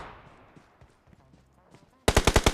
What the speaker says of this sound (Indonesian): Dia nembakin dua tuh.